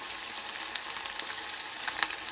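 Chicken tails deep-frying in hot oil until crispy, giving a steady close sizzle with scattered crackles and pops throughout.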